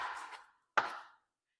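A knife chops through an onion on a board in two crisp, close strokes separated by a short pause, each with a brief crunchy tail.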